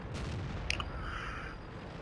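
A single tank cannon shot in World of Tanks, a sharp, fairly faint blast with a brief echoing tail, followed by a soft tonal hum over steady game background noise.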